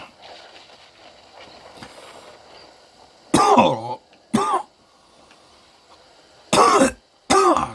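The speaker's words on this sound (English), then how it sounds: "Or maybe because I'm coughing." Several loud, close coughs and throat clears in two pairs, each short and harsh, over a quiet murmur of background game sound.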